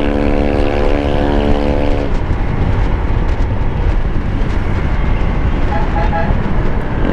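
A Honda ADV 160 scooter horn blares in a long steady honk for about two seconds over loud engine and road noise on a public road, then a brief faint toot follows later.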